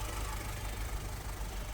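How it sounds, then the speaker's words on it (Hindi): A Hyundai U2 1500cc CRDi inline-four diesel engine in a 2022 Hyundai Venue idles at close range, giving a steady, loud rumble with a faint knocking texture and no variation over the short stretch. "तो ये था Hyundai U2 डीजल इंजन"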